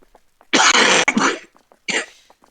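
Two loud, harsh coughs close to the mic, the first long and rasping, followed after a short pause by a shorter one.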